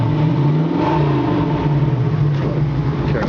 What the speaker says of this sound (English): Got a classic Mustang sound.